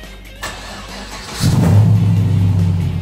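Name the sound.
car engine warming up, revving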